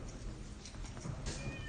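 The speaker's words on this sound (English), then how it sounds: "The cat has just joined me in the studio" A cat meows in a studio, several short, fairly faint cries spread across a couple of seconds over a steady background hum.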